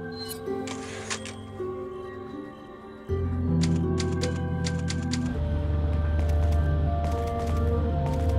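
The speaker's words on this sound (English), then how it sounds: "Yeah, typewriter. That's how you know ain't no enemies around when you hear this." Typewriter clacks and a steady ambient drone make up the safe-room sound in Resident Evil 4. A sharp burst of keystrokes sits over layered synth tones that swell louder partway through.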